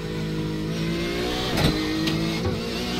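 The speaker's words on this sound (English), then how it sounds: "Porsche always sounds odd from the nose cam." Porsche GTE race car in iRacing at Interlagos, heard from the nose camera: a loud, steady engine drone with a prominent gearbox whine, a brief surge of revs partway through, and no talking.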